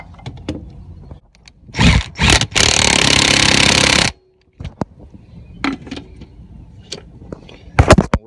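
An impact gun tightens nuts during a Honda CR-V belt replacement, firing two short loud bursts and then one long sustained rattling run. Quieter clicks and handling noises come before and after.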